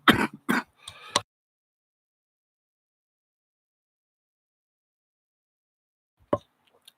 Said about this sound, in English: Stoner's cough, not COVID cough.